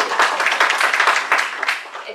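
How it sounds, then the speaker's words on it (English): Audience applause at a Silicon Valley leadership event, a dense burst of many hands clapping close and loud for about two seconds, tapering slightly toward the end. "Big round of applause."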